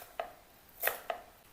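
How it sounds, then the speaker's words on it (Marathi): A knife chops fresh coriander on a board in three crisp, separate taps spaced across a short, quiet stretch. "कोथिंबीर कापायचा।"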